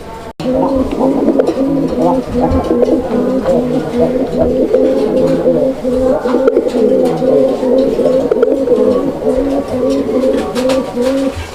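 Lahori and Bombay Koka pigeons coo over and over in a steady, rolling rhythm, loud and close, while someone talks over the calling.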